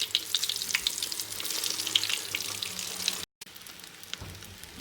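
Shami kababs fry in a pan with a steady, close crackling sizzle full of small pops, broken by a brief silent gap before the sizzling resumes.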